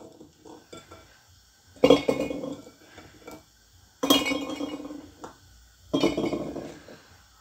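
Garlic cloves drop into 2-litre and 1.5-litre glass jars being packed for pickled cucumbers, giving three distinct bright clinks with softer taps between them, and no talking.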